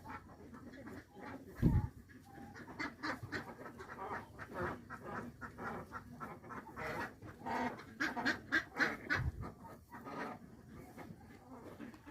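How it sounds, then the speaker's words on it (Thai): Ducks raised on a duck farm quacking in a flock, with repeated overlapping nasal calls in irregular bursts, some close and some farther off, plus a few scattered knocks and a little background talk. "เป็ดเราเลี้ยงเองนะคะ"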